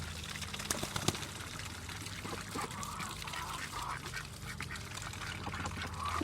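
Ducks quack on a farm during breeding season, several calls rising over a steady trickle of pouring water, moderately near and continuous.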